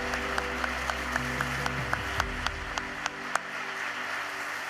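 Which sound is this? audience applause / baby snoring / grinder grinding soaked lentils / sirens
audience applause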